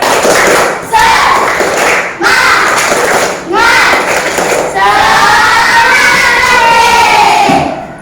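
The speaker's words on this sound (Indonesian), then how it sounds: "Tepuk semangat." A classroom group performing a rhythmic spirit clap, loud unison claps in short bursts separated by brief pauses, then a longer stretch of voices shouting and cheering together.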